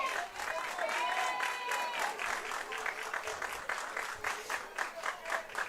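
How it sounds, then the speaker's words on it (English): Mandeville fans in the stands at a high school baseball game clap and cheer steadily, a dense crowd wash with whoops and voices mixed in, heard from some distance. "I'd love to hear our fans cheering like these Mandeville fans are"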